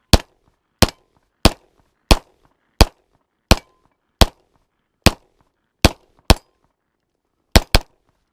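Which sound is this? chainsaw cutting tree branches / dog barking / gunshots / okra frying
gunshots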